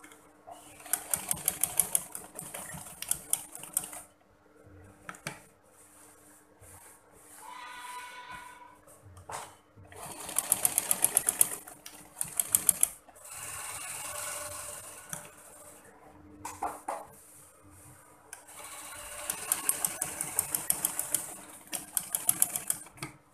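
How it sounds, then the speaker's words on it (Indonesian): A sewing machine stitching a pleated skirt back and forth runs in rapid rattling bursts of several seconds each, with brief pauses between passes, close and moderately loud. "Kita jahit berulang kali supaya kuat jahitannya."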